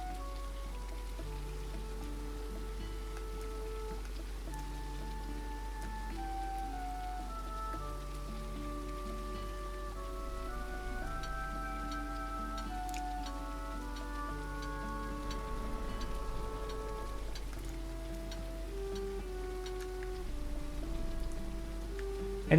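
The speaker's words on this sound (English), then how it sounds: "it's raining" Rain patters steadily on surfaces in a fantasy shop simulator video game, soft and continuous beneath a gentle melodic music track with a constant low hum.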